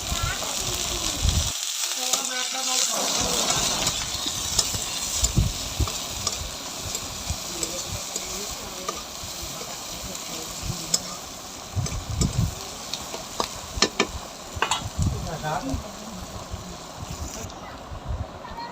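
Chopped onion hits hot oil already holding whole spices (dried chilli, bay leaf, cumin, cardamom, clove, cinnamon) for a yogurt mutton curry, giving a steady, fairly loud sizzle with crackling bursts and occasional clatter throughout.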